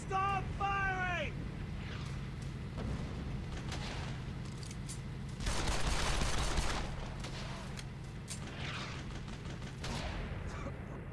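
Sustained gunfire rolls through a battle in the World War II shooter Brothers in Arms: Hell's Highway, a dense crackle of shots with a louder burst midway, while voices shout under the din.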